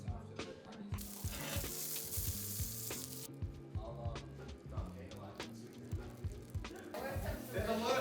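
Wagyu burgers fry in a pan full of fat, a loud continuous sizzle with bursts of spatter and occasional scraping, while people talk over it.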